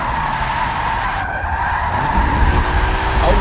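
Tires squeal loudly as a race car skids through a 360 spin in the Forza Motorsport 7 racing game, a sustained close screech over engine noise.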